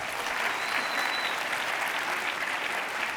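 A keynote audience at SXSW 2019 applauds in a dense, steady wash of many hands clapping at once, holding an even level throughout with no voices above it.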